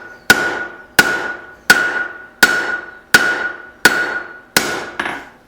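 A hammer striking a bolt to set it as a rivet while forging a tong half, seven loud ringing metallic blows at a steady rhythm, each with a short decaying ring, close up.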